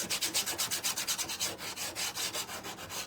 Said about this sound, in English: You can go around your edges, you can sand them.